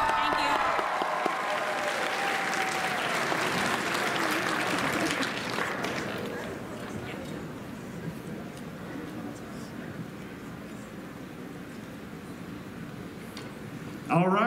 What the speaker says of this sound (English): All right, one more round of applause, let's do it.